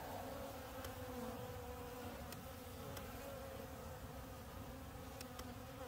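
Honey bees at a hive during an oxalic acid vapor treatment keep up a loud, steady buzzing drone throughout, with a few faint ticks.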